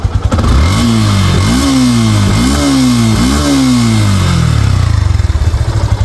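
A Yamaha FZS version 3 motorcycle engine running just after starting, loud and close, with several quick revs rising and falling over a steady idle.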